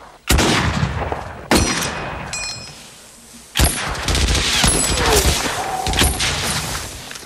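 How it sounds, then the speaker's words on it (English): Gunfire in the war film The Thin Red Line, sharp loud shots cracking out in separate bursts with ringing tails and scattered battlefield noise between them. "The sound design of the bullets,"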